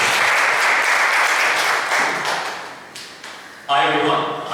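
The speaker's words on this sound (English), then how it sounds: "Can you give a big round of applause?" An audience claps in a training workshop, a dense burst of applause that fades down and then swells again near the end.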